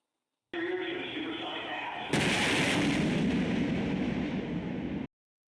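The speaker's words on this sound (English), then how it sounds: "that's a Hornet going supersonic" F/A-18 Hornet jet on a supersonic flyby: a loud, steady roaring jet noise that jumps abruptly to a harsher, broadband blast midway, like a sonic boom arriving, then sustains until cutting off.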